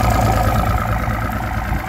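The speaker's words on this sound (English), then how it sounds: "Mercury OptiMax 200. It's a oil-injected, direct fuel-injected two-stroke." A 1999–2000 Mercury OptiMax 200 hp direct fuel-injected, oil-injected two-stroke outboard idles steadily and close by, a continuous low rumble with no speech.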